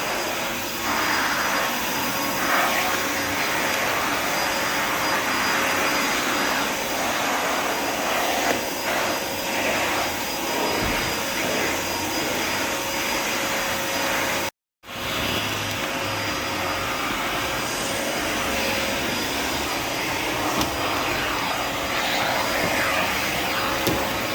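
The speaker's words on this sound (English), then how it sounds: "is vacuuming the fake grass. That's the golf area" A vacuum cleaner runs over artificial grass on a golf practice area, giving a steady, loud whooshing drone that holds for the whole stretch, cut by one very brief dropout near the middle.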